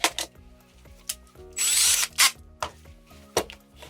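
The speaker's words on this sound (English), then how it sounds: "we need to drill 2 holes here, one to fasten it down and one for the aerial" A power drill bores holes into a chunk of plastic mount while fitting an ESC, in short whirring bursts with pauses and small clicks between them, close and loud.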